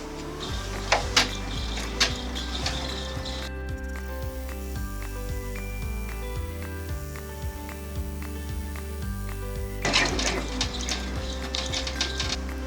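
A machine embroidery unit stitching a tack-down line on cotton fabric panels: a steady, rhythmic mechanical whir and needle pulsing with even repeating beats, bracketed by brief clicks and shuffling handling sounds at the start and end.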